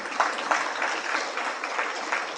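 A crowd claps steadily at a spiritual talk, a dense, even wash of applause that holds at moderate loudness throughout with no voices over it.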